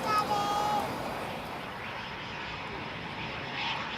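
A Eurofighter Typhoon jet at a UK air show roars faintly in the distance for a few seconds, a soft, broad rushing engine sound that swells slightly near the end.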